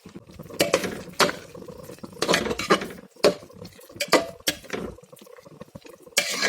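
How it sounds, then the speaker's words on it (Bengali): A spoon clinks and scrapes against a pot as fried soya chunks are stirred into cooked dal khichdi, giving repeated loud, close knocks in an uneven rhythm with soft scraping between. "এখন আমি ভেজে রাখা সয়াবিনগুলো মিলিয়ে দেব।"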